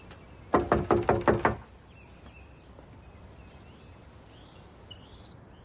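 Sheriff's deputies rap on a door in a dramatised film scene: a quick run of about seven hard, close knocks, then quiet room tone with faint chirps.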